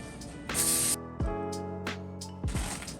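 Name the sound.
spraying vegetable oil onto a pan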